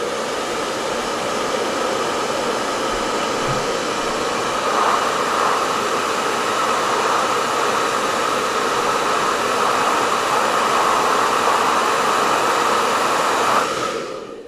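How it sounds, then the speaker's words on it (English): A hot air dryer blows steadily on a weathered scale model for the whole stretch, a loud, even rushing hiss close by that cuts off at the end, with no voices. "Let me use the hot dryer again for the frontal part"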